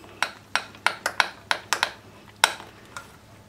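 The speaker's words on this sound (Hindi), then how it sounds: "तो अच्छे से मिक्स कर लेते हैं।" Mango pancake batter is mixed in a bowl, heard as a series of sharp, close clinks and taps of a utensil against the bowl at an uneven rhythm, with quiet pauses between.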